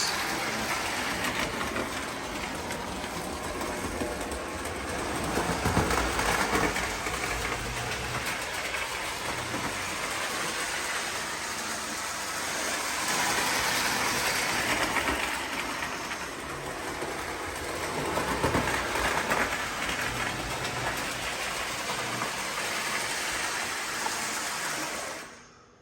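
An Alco model train locomotive runs steadily on its track, a continuous broadband rumble with faint clickety-clack, fairly close and alone with no talk, for about 25 seconds before cutting off.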